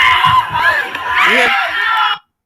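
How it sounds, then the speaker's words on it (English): A dense crowd screams and shouts at the Astroworld concert, with loud overlapping voices and cries that continue throughout and then cut off abruptly. "you can hear screaming, help, stop, move."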